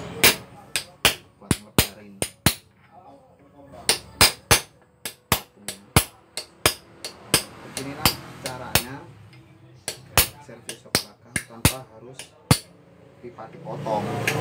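Repeated sharp metallic strikes of a hammer or round iron bar on a Honda Beat front shock absorber, in an uneven rhythm of single blows and quick clusters, close and loud, with faint talk in between.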